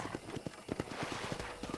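Horse hooves clip-clop in a steady rhythmic gait in Red Dead Redemption 2, a brisk run of close, fairly quiet hoof strikes with no talk.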